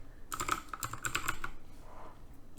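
Quick, light keystrokes on a computer keyboard as a search is entered on the TradingView site, a short close burst of clicks followed by a few softer taps.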